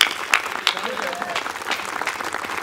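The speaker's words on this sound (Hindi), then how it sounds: "जोरदार तालियां बजाकर बाबूलाल डींगिया को आमंत्रित करें" Audience applause at a Hindi comedy poetry show, a dense wash of clapping from the crowd lasting throughout, moderately loud with some individual claps standing out.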